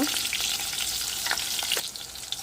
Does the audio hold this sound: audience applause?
no